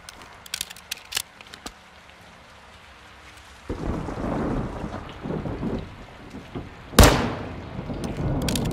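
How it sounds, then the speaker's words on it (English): Heavy rain in the Call of Duty MW2 campaign: a few scattered clicks give way to a sudden steady downpour roaring close by, then a loud crack of thunder breaks over it. "It's raining fucking hard."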